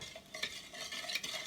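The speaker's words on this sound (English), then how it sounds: "I'm going to stir this mixture." A sugary mixture being stirred quickly by hand, with close, steady scraping and swishing strokes in a quick rhythm and no talking.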